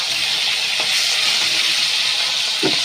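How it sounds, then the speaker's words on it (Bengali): Fish heads rubbed with salt and turmeric fry in hot oil in a wok, giving a loud, steady hiss with a few soft knocks as they are turned. "এইভাবে মাছগুলো উল্টিয়ে দিয়ে ভালো করে ভাজা করে নেব।"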